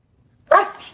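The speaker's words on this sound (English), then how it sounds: "Doberman Pinscher." A Doberman Pinscher gives one loud, close bark followed by a shorter trailing yelp, set against near silence.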